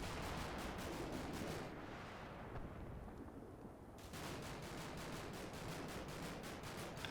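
Mark 19 grenade launcher fire rattles in rapid, steady bursts in the Combat Mission snow battle, a dense rhythmic thumping that drops away briefly mid-stretch and then resumes, distant and fairly quiet.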